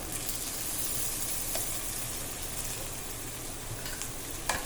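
Spices and poppy seeds fry in a pan for a goat trotters paya curry, a steady close dense sizzle throughout with a few small stirring clicks, no voices.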